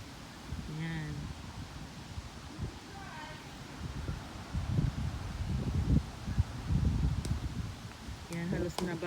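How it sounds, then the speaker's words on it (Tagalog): Strong autumn wind in Canada blowing falling leaves off trees onto grass: a rushing, rustling gust that swells in the middle and later, close to the microphone, with a person talking intermittently over it. "Kasi malakas ang hangin."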